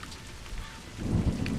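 Steady rain hisses over a video game landscape while a deep roll of thunder swells in the second half, filling the short moment without any voices.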